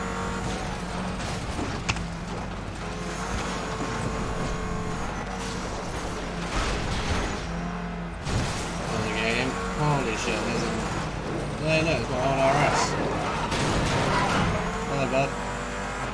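A car in Need for Speed Most Wanted drifts and skids, with engine roar and tire squeal rising and falling over about sixteen seconds, while a voice talks over it.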